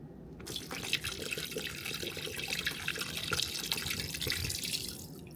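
Water poured into a cooking pot at home, a steady close splashing stream running for several seconds.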